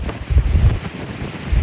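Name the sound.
strong wind on a boat at sea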